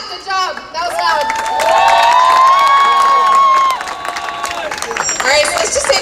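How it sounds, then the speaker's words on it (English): Crowd of pro-Palestine activists at the Israeli embassy in Washington DC cheering and shouting loudly after a chant, with a sustained roar, whistles and scattered clapping, then a voice speaking over it. "Give yourselves a clap. Good job. That was loud."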